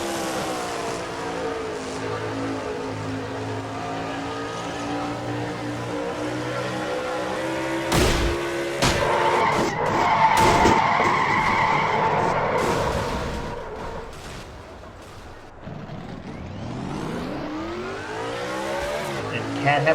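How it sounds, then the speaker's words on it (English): Race car engine from an NNSCRA Castrol GTX Cup racing video game, heard from an in-car view, droning steadily before a sharp disruption midway, then revving back up toward the end. "we had an in-car camera inside Cat Batson's car. Let's take a ride with her."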